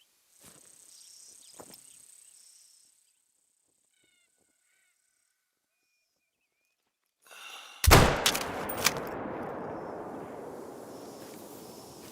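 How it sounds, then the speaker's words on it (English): A rifle fires a single loud, sharp shot at a target in the hunting game The Hunter: Call of the Wild, followed by a long decaying rumble and ambient outdoor noise, after quiet bird-like calls and near silence. "Try to shoot that target. Still using the rifle, of course."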